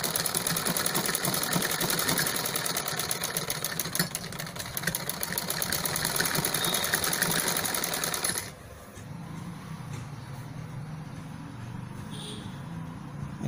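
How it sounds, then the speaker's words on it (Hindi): An electric sewing machine runs steadily, stitching at a fast even rhythm for about eight seconds, then stops, leaving a quieter low motor hum and faint handling sounds. "अब ये देखिए हमारी मशीन को चला के हम देखते हैं कि सिलाई कैसी आ रही है।"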